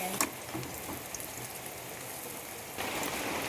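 Rain patters steadily outdoors in a home setting where prawn curry is being cooked, a soft broadband hiss with scattered drops that grows a little louder near the end, heard alone without talk.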